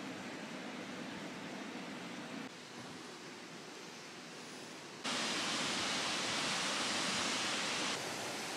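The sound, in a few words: waterfall pouring into a wide pool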